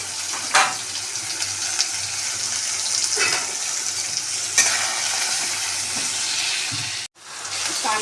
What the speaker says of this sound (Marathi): कांदा आपला चांगला भाजून द्यायचा.